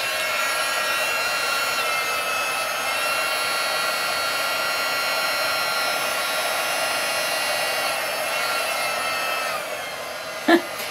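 Steady close whoosh of a heat tool blowing hot air over a papercraft card being embossed with white craft ink, continuous and even throughout, with a brief knock near the end.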